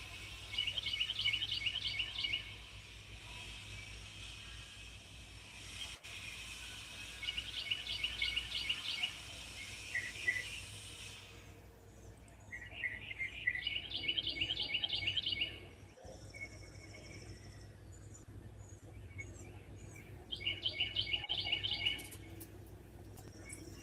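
Small birds near a porch banister give repeated bursts of bright chirping and twittering, several separate clustered phrases over a steady low background hum, fairly close and with no talking.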